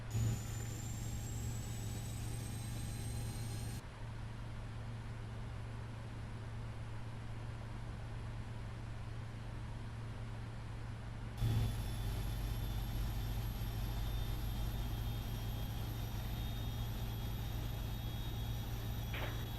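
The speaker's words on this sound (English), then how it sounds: "now we can do the orgasmic sounds by starting the engine number 2" Engine number 2 of a simulated Boeing 777-300ER starts in the Prepar3D flight simulator: a steady turbine whine over a low droning rumble, with the level shifting abruptly twice and no voices.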